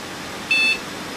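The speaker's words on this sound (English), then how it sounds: "Beep." An HP Pavilion 3260 computer gives a single short, clear electronic beep while booting, loud and isolated against quiet room noise.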